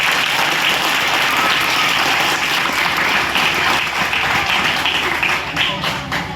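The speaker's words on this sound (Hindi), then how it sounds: "ऐसे टीचर्स के लिए फिर से एक बार जोरदार तालियां हो जाए।" Loud, dense applause fills the space steadily for teachers at a Guru Purnima celebration at Regal Cambridge Academy School, easing slightly toward the end.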